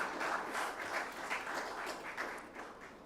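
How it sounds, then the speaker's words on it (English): Audience applause for India's Ministry of Defence and Defence Minister at a defence conclave, a steady wash of many hands clapping for about three seconds, moderately distant and fairly quiet, with no talking over it. "A big round of applause for Ministry of Defense and Defense Minister."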